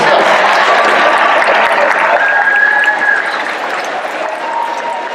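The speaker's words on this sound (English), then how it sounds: "Stand up and applaud for yourself." Graduates at a baccalaureate ceremony clap for themselves in a loud, dense burst of applause filling a hall, sustained throughout before easing slightly near the end.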